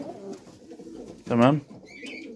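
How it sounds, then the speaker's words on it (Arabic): Egyptian Halabi pigeons coo nearby in a short rolling burst, with someone speaking briefly around the birds. "نشوف بقى الحمام اللي احنا جبناه، حلبيات مصري"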